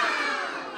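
A brief, loud group roar from many children at a birthday party mimicking a tiger, one sustained shout.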